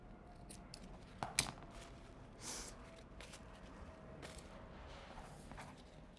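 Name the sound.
scissors cutting across stacked paper strips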